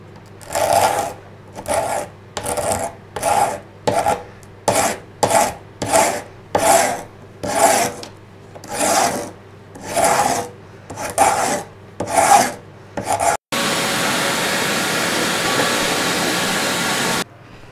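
A hand scraper is stripping old glue and backing off a piece of old furniture, with about a dozen rhythmic, rasping strokes close by, followed by a sudden switch to a continuous loud, even grinding hiss.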